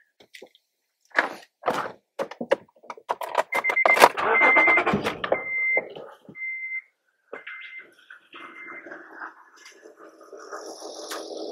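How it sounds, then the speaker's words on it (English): A car's engine cranks and fires up during a battery cranking test with a handheld tester. Clicks and short electronic beeps come first, then the engine catches and settles into a steady running hum close by. "Y'all hold on while I start the engine."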